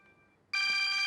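A phone's electronic ringtone starts abruptly, loud and steady with bright tonal harmonics, after a faint softer tone.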